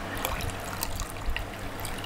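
Two cups of water poured from a cup onto sugar in a pot while making dessert syrup, a short soft splashing trickle heard close up with faint background hum.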